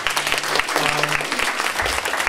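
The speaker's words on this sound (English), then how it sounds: "Big round of applause for Jose" A roomful of people at a public community fair applaud for Jose, a dense, steady wash of clapping that fills the space, with faint voices mixed in.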